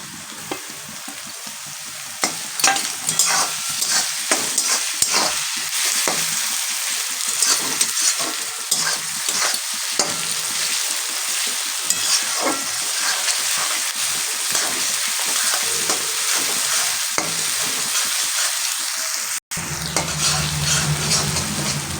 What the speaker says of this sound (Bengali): এবারে এর মধ্যে কিন্তু আমি রসুন যে থেতো করে রেখেছিলাম, এই রসুনটা কিন্তু আমি দিয়ে দেবো।